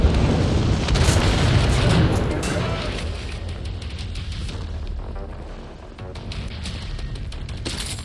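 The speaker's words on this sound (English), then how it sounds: "Let's check out the rocket launcher. There you go, robots down." Rocket launcher blasts in the shooter Wolfenstein: The New Order, a dense, loud booming roar that swells and lingers as a rumbling wash after the explosions, with a faint voice talking underneath.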